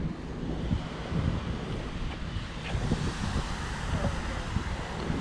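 Sea waves wash onto a beach in Martil, Morocco, in a continuous low rumble of surf mixed with heavy wind buffeting the microphone, steady and fairly loud throughout.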